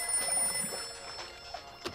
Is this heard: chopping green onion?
no